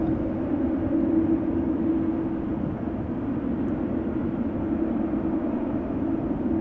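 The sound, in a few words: Boeing 787 Dreamliner airliner at Amsterdam Schiphol Airport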